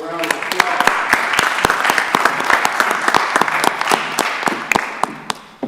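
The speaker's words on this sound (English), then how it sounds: "let's give them all another round of applause" A room of people applauds at a county board of commissioners work session, with loud, sharp individual claps over steady clapping that fades near the end and some talk mixed in.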